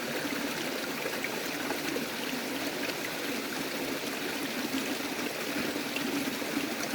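A narrow mountain waterfall stream pours into a bottle on the trail to Ratangad Fort, with a steady close splashing and trickling rush and no voices.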